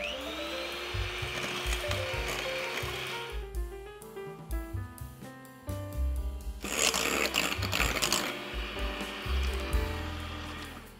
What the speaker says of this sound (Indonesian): Semua bahan A dikocok hingga kental.